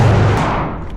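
A single loud gunshot at a shooting range, a sharp blast with a long decaying rumble fading over about a second, heard alone without talk.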